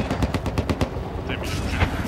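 Rapid automatic gunfire rattles in the video game Battlefield 4, a fast burst of sharp cracks followed by more scattered shots, loud and close, with players talking over it.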